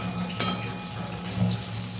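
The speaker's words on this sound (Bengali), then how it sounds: "দেখো ফ্রাই হচ্ছে।" Fish frying in a pan in a village kitchen, a steady close hiss and sizzle of oil running throughout with a brief louder crackle near the start.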